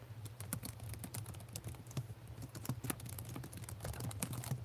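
Close, quiet laptop keyboard typing in quick uneven bursts of clicks over a steady low hum, with no voices.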